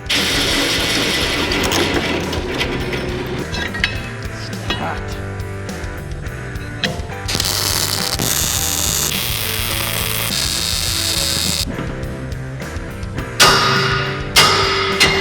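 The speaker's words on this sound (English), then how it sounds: "I'm gonna go drill another hole over here" A drill bores a hole into a farm truck axle, a loud close grinding and ratcheting whir with brief pauses and surges in pitch over about fifteen seconds.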